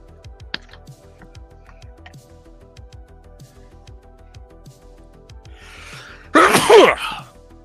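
A single loud sneeze bursts out near the end, close and sharp, following a stretch of quiet background with faint ticking and low rumble during a live action-figure customizing session.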